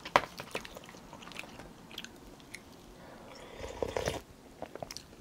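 Someone eating Samyang Buldak stew noodles close up, with wet slurps, bites and chewing coming in irregular bursts, getting louder toward the end, with no talk.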